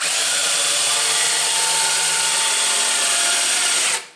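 The head of a PM727MXL mill drill, fitted with an air spring counterbalance, travels up and down with a steady, loud motor whine, straining less and moving faster going up, that runs evenly and then cuts off abruptly near the end.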